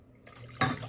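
A short splash of water suddenly pouring into a cooking pot for soup, following a quiet moment, bright and close, lasting under a second.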